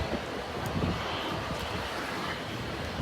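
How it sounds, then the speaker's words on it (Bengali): Aircraft at Dhaka airport give a steady, distant engine drone through strong, gusty wind, with no voices over it. "গ্রামের মতো খুব সুন্দর পরিবেশে বিমানগুলো ওঠানামা করতেছে"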